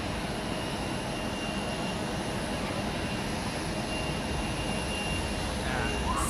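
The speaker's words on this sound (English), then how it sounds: "we have the Swiss flight to JFK also on the runway" A Swiss jet airliner bound for JFK rolls for takeoff at Zurich Airport, its engines a steady, broad roar at a distance that grows slightly louder toward the end.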